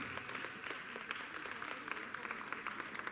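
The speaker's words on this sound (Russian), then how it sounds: "Аплодисменты." Steady audience applause fills a dance competition hall at a Grand Prix Belarus 2023 youth Latin event, dense clapping holding at an even level throughout.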